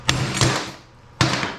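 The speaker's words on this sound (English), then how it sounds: "Now another quick wrap with the hammer," Two sharp metallic hammer blows on a 1970 Challenger control arm, spaced about a second apart, each ringing briefly in a quiet, smoky workshop.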